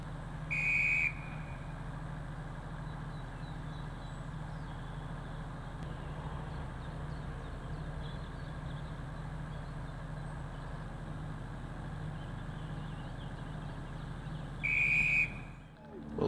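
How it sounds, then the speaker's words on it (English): A referee's whistle blows two long blasts, one at the start and one near the end, marking a minute's silence before a rugby match, with a steady low rumble of engines or ambience filling the quiet between. "There will be a minute's silence on the mark of the whistle from our referee today, Mike Hudson."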